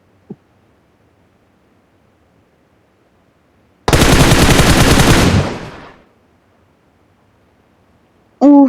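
A video game gun fires one loud sustained burst of rapid automatic shots lasting about two seconds, ending in a fading tail, with near silence around it.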